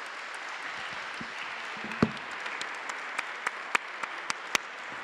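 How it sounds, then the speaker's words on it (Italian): An audience at a conference closing session claps for the participants, a sustained wash of applause with a few sharp, louder claps standing out near the end. "invito a un, a un applauso a tutti i partecipanti."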